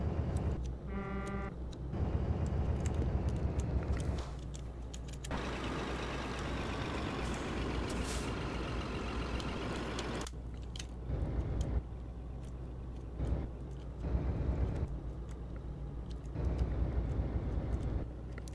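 Heavy truck engine in Euro Truck Simulator 2 with its exhaust brake engaged: a loud, sustained low rumble and roar that lasts several seconds, ending abruptly, followed by quieter engine running broken by brief bursts.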